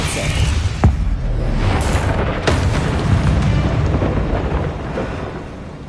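Depulso force spell from Hogwarts Legacy on PS5: a loud, sustained rumbling boom with a few sharp cracks near the start and middle, then a slowly fading roar.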